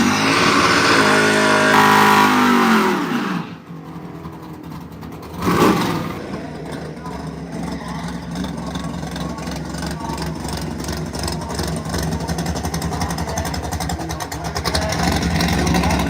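Dodge truck at a drag race, its engine loud and near, revving hard, falling away briefly with a sharp burst, then settling into a rough rumbling idle that swells again at the end.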